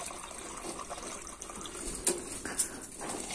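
Energy drink being poured into rabbits' drinking water: a soft, steady liquid trickle running for several seconds, with a couple of small splashes.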